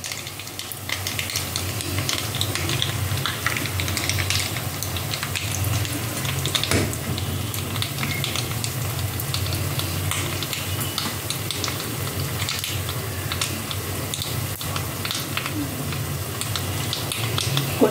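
Dried red chillies frying in hot tempering oil for rasam, a dense, steady, close sizzle and crackle that runs the whole time with a few faint stirring scrapes.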